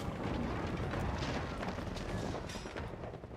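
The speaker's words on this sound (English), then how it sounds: "the ship abruptly explodes after a deep and boom" A loud, rumbling explosion of a ship blowing up in Pillars of Eternity II, with crackling debris, sustained and dense, fading slightly toward the end.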